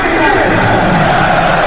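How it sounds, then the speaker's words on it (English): Football fans at an Ajax versus Rangers match give a steady, distant roar of crowd noise and applause for a player going off, a continuous dense wash with no distinct claps. "taking the applause from the fans"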